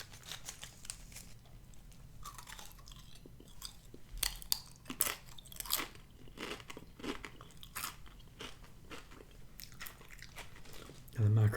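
BBQ-flavoured Pringles potato crisps bitten and chewed close up, with irregular dry crunches and crackles, some sharper snaps mid-way, over a low background.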